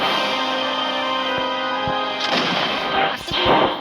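Musket gunshots in the video game Muskets of America, booming reports over steady background battle noise, with a couple of sharp bangs and a louder burst near the end.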